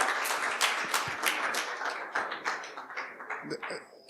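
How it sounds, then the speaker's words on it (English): Applause from a group, a steady patter of hand claps that thins out toward the end. "Clap for this team."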